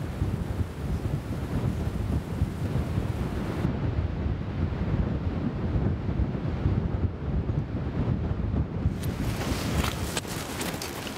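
A roaring mountain stream rushes over rocks in a Himalayan valley, a dense continuous loud roar with gusts of valley wind buffeting the microphone throughout.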